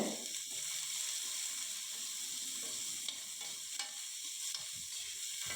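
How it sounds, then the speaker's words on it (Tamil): Beans and carrot sautéed lightly in oil in a pan for restaurant-style white vegetable kurma, a soft, steady sizzle with occasional stirring clicks and scrapes, fairly quiet and without talk. "பீன்ஸு போட்டு லேசாக வதக்கிக்குங்க, ரொம்ப எதையுமே ரொம்ப நேரம் வதக்க வேண்டாம்."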